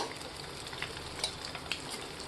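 Eggs frying in oil over a high flame, a steady close sizzle with small crackles and pops spread through it, no voices.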